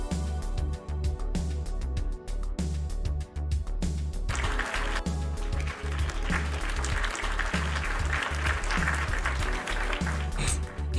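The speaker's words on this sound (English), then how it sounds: "Everyone now applause for the best girl." Applause in the video game VA-11 HALL-A rises to a dense clatter of clapping over background music that runs throughout, the clapping building after a few seconds and carrying on to the end.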